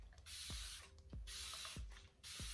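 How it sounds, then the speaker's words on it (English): Rose water sprayed onto short to medium locs from a pump bottle, with four long, close misting bursts, each ending in a short squeak from the trigger. "So I'm gonna spray it with the rose water"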